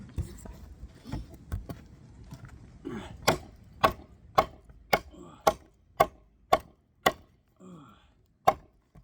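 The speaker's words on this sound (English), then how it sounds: "I've been chopping for a while" A TOPS Storm Vector knife strikes seasoned hardwood in a steady series of sharp, loud chops, about one every half second, after a few softer knocks.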